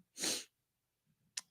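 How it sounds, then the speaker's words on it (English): A single loud, close sneeze bursts out alone, followed by a short sniff or breath about a second later, with faint background murmur in a quiet room at a tea party event. "You're sneezing now too."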